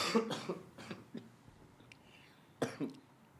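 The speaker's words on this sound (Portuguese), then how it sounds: "Não, vai lá, tosse tranquilo." A few separate coughs ring out with quiet pauses between them, close by, including a short double cough near the end.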